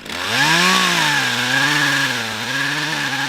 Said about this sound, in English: His coworker Drew Dabalier took a chainsaw to the bigger ones.